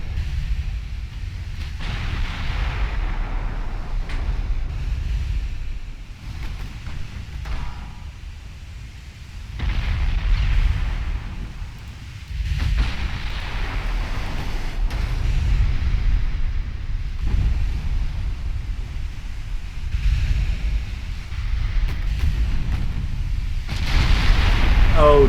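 A warship blows up and flashes with fire in Ultimate Admiral Dreadnoughts, heard as loud, sustained low-end rumbling with repeated heavy booms surging and fading over a long stretch, with someone talking over it at times.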